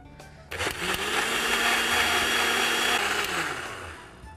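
A kitchen mixer kicks on and whirs loudly at a steady pitch as it blends buttermilk with lemon juice, then winds down at the end.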